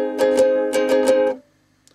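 Ukulele strumming pattern played without percussive muting: a handful of bright, close strums in a short rhythmic burst, then the chord stops and rings off into near silence.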